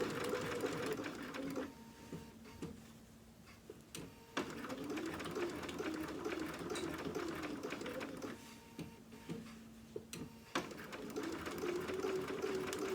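A sewing machine stitches a dog outfit in several close bursts of rapid whirring, pausing briefly between runs as the fabric is turned, with no talk over it.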